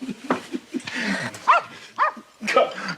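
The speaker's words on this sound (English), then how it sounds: "Call off your dog, Bossy." A dog barks several times in short sharp bursts, fairly close, mixed with people talking around it.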